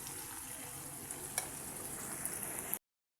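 Chicken frying in its own released water in a pan, a steady loud sizzle with a few scraping stirs, no talking, ending abruptly.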